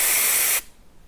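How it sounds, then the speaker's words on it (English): Compressed air blasts through the small octave vent hole of an oboe, a loud, close hiss lasting about half a second before it cuts off sharply. "we can blow the compressed air through the hole of the octave vent"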